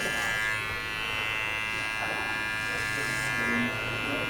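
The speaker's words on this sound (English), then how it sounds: "this is where I will do clipper over comb to just smooth out" Electric hair clippers buzzing steadily and close while cutting hair clipper-over-comb in a barbershop, a constant droning hum with a voice talking over it.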